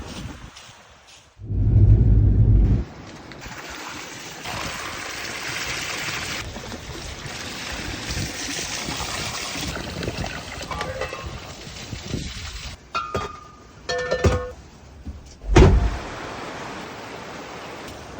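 River in Japan flowing in a steady rushing hiss, close and continuous, with a few short handling bumps and rustles breaking through near the start and the end.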